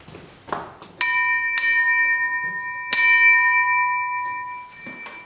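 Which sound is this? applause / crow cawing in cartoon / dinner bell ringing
dinner bell ringing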